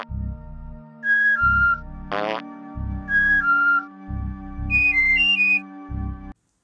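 Whistle effects from the sound options of the 1997 game Oddworld: Abe's Oddysee, a series of short two-note whistled phrases alternating with low game tones and a brief rising squeal, loud and clear with no talk.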